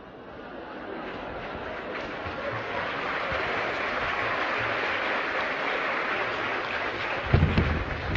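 An audience applauding during a lecture, a broad, steady wash of many hands clapping that swells in and holds for several seconds, with a brief louder burst near the end.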